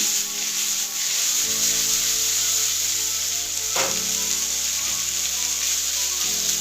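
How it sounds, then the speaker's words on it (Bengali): A vegetable sauté is mixed with sauce in a hot pan, making a loud, constant sizzle with soft rubbing and scraping from the stirring spoon and a couple of brief louder strokes. "জাস্ট হালকা করে মিশিয়ে নিয়ে গ্যাসটা অফ করে নেব। তাই মিশিয়ে নিচ্ছি।"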